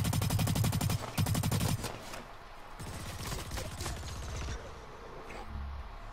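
Video game gunfire in rapid automatic bursts, loud and close, with a mechanical rattling texture continuing at lower level afterward.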